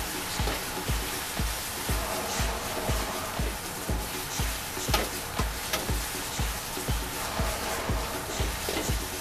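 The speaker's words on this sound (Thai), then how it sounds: "ตอนนี้ลงกระทะไปแล้วนะคะใกล้สุกได้ที" Steady sizzling and crackling of hydroponic vegetables frying in a hot pan, with a regular rhythmic clatter of stirring or tossing throughout.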